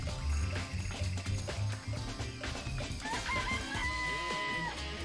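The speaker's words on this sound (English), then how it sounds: "Four chickens!" Several chickens cluck and one crows in the video game Danganronpa: Trigger Happy Havoc, layered over background music and busy ambient sound.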